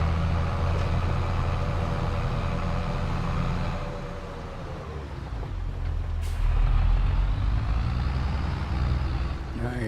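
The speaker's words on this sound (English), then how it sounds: "I gotta get that truck out of the way" A truck engine in Farming Simulator 22 drones loud and steady with a deep low rumble, and a brief hiss of air brakes cuts in partway through.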